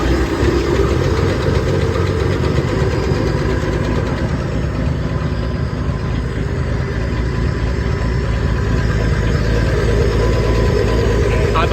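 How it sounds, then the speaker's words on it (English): A Ford F-100 truck engine with a newly installed carburetor, fresh gas and a new oil filter runs continuously at a loud, rough, knocking idle, heard close throughout. "this is gonna be the first startup after we change the oil filter and got some fresh gas to it"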